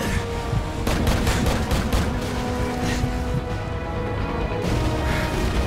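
Dense gunfire from the video game Call of Duty 4: Modern Warfare, with overlapping rapid bursts and booms running continuously, loud and busy throughout without talk.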